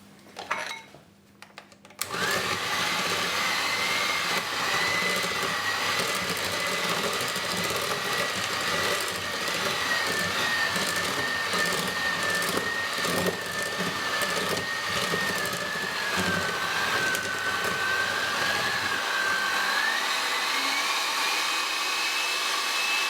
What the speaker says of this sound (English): Add sugar and whisk.